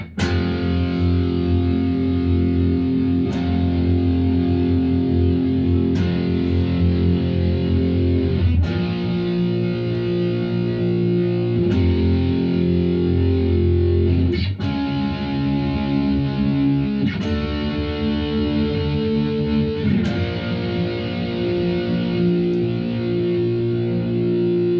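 Distorted electric guitar playing the simple chord progression from the intro of a song, sustained chords ringing loud and steady with a fresh strum every few seconds, no voices.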